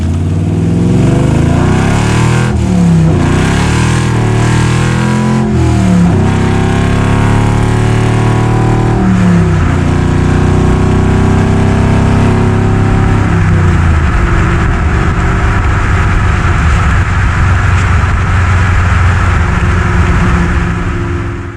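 A 650 hp LSA V8 in a 1971 Chevrolet Nova roars loudly and up close while driving, revving and pulling through several gear changes before settling into a steady, rumbling cruise.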